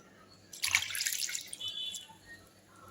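A burst of splashing and trickling water as arai keerai greens are swished and rinsed, then quieter drips fading out.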